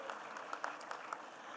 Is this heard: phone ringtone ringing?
no